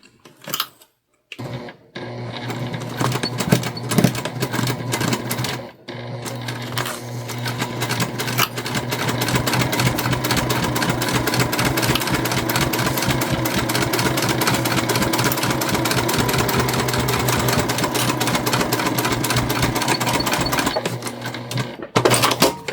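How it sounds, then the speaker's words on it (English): A Juki TL2 sewing machine stitches the side of a drawstring backpack in one long, loud, steady run of rapid needle strikes after a couple of short starts. "And now we sew this third side on."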